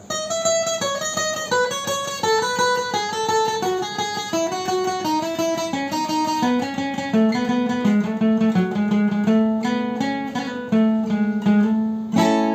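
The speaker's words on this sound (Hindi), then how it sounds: "देखिए फील पूरे का पूरा आपको लीडियन का सुनाई दे रहा है" A keyboard plays a flowing melodic run of a Lydian mode scale, single notes stepping up and down at an even pace, with a bright, sustained tone throughout.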